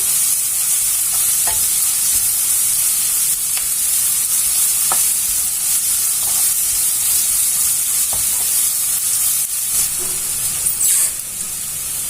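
Ginger garlic paste sizzles loudly in hot oil in a pan, a constant bright frying hiss broken by occasional clicks and scrapes of a stirring spoon.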